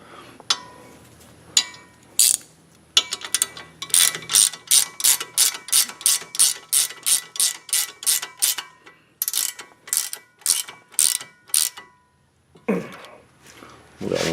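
Close ratchet clicks tighten a castle nut on the tie rod of a 2004 Pontiac G6, a long run of sharp, evenly spaced clicks in bursts with brief pauses and a throat clear near the end.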